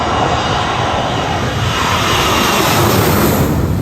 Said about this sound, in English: how about a little American Airlines action coming straight toward you headed to Miami?